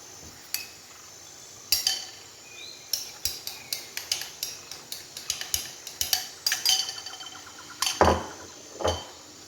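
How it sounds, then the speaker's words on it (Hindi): Beaten eggs for spicy scrambled eggs cook in a kadhai-style pan while a utensil clinks and scrapes against the metal in quick, irregular taps, fairly quiet with no talking. "और अब हम इसमें जो हमने अंडा फेंट कर रखा हुआ है वो हम इसमें शामिल करेंगे।"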